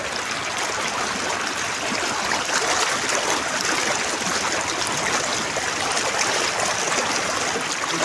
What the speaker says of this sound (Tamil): உமாப்பட்டிக்கு மேலே பயங்கரமாக போயிட்டு இருக்கு தண்ணி.